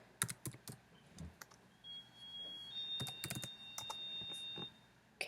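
Computer keyboard keys tapped in short irregular bursts of clicks, fairly close and quiet, with a faint electronic whine in the background and no talking.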